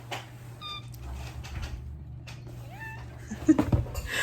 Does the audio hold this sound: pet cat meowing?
yes